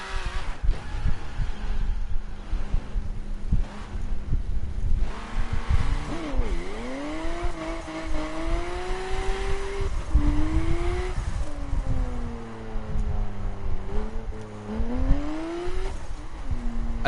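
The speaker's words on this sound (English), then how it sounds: "Nissan GTR." Nissan GTR engine in the racing video game The Crew, a loud close engine droning and revving with rising and falling pitch sweeps through gear changes, sustained throughout.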